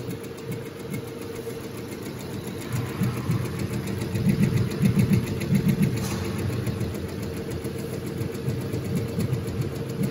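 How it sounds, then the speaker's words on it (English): An automatic embroidery machine stitching a design onto socks runs with a steady mechanical hum and a rapid rhythmic needle clatter, moderately loud and close, with no talking. "we can press start button to make the machine working. And the machine will work automatically until it finishes."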